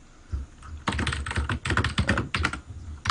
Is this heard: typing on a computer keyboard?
yes